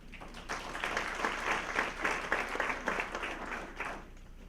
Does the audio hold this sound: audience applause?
yes